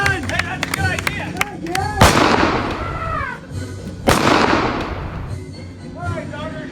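Gunfire in a Wild West stunt show, two loud sharp bangs a couple of seconds apart, each with a booming echo, amid shouting voices and crowd noise.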